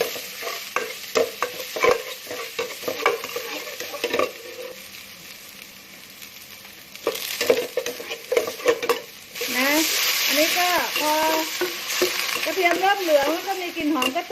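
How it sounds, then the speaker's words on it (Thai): Garlic and coriander root fry in hot oil for a Thai pork rib soup with pickled mustard greens, sizzling steadily while a utensil scrapes and clatters against the pan. Someone talks over the cooking in places. "กระเทียมกับรากผักชีนะใส่ลงไป เจียว เจียวให้มีกลิ่นหอมนะคะทุกคน"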